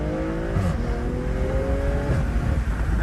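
A tuned BMW M340i accelerates hard on a freshly paved road near a construction lot, its engine note climbing steadily in pitch with a brief shift partway through, loud and close throughout.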